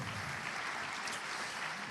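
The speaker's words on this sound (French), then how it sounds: "On super. l'applaudit bien fort." Applause from a conference keynote audience, a fairly faint, even wash of clapping from a hall that continues without pause.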